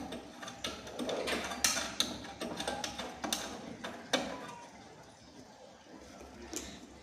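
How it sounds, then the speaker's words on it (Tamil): Screws are driven in to lock an electrical fitting during a wiring job, a series of faint, close ratcheting clicks and scraping metal turns in irregular bursts, tapering off toward the end. "ரெண்டு ஸ்க்ரூவையும் போட்டு நல்லா லாக் பண்ணிக்கிறோம்."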